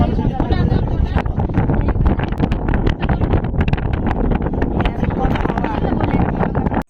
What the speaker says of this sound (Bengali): এত হাওয়া দিচ্ছে